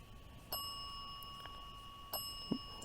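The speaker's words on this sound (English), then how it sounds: "Now you're making the bell go off." A small electronic bell on a ghost-hunting EMF device in a cemetery, two faint sharp dings about a second and a half apart over a quiet hum.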